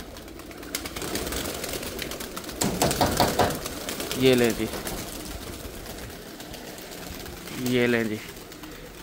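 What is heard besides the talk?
pigeons flying and cooing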